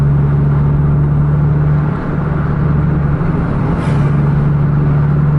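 A bus overtakes a truck on a road, heard as a loud, steady engine drone and road rumble from inside the vehicle, with a brief dip midway and no voices.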